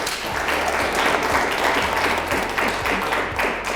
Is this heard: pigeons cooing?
no